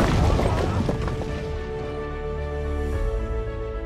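Explosions rumble through a home theater sound system, a loud low boom at the start followed by a sustained deep rumble with a steady tonal hum layered over it, continuous for several seconds.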